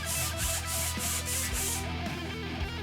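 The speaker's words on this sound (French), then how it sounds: "Une petite passe de ponçage." Light sanding of a wooden guitar neck: a steady run of rhythmic, close back-and-forth abrasive strokes that stop partway through, leaving quiet ambience.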